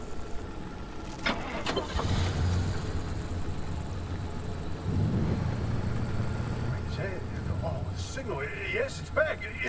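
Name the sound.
car engine starting in a VR video game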